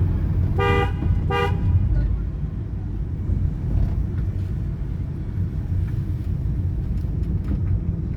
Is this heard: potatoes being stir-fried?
no